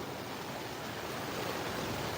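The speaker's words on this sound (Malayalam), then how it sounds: "നല്ല ശക്തിയിലാണ് വെള്ളം പോകുന്നത് കേട്ടോ" A steady, loud roar of fast-moving floodwater rushing past close by during heavy rain, continuous and unbroken, with no voices.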